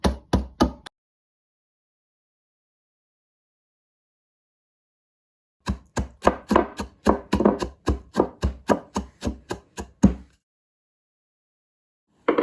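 Biscuits bashed and crushed by hand for a no-bake chocolate cheesecake base, a close series of sharp, heavy thuds in quick rhythmic bursts separated by a long silence.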